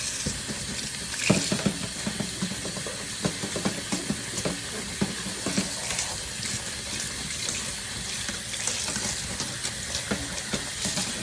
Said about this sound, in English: And let's wash it off.